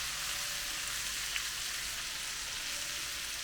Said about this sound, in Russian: Мы будем его жарить не до золотистой корочки, а чтобы он размягчился.